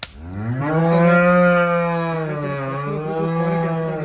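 A cow lets out one long, deep moo, loud and close, holding steady for several seconds before trailing off.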